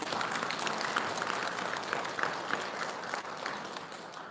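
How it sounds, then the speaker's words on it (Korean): Praise applause from a Buddhist dharma assembly congregation, steady dense clapping filling the hall at an even level throughout. "찬탄의 박수 한번 부탁드립니다."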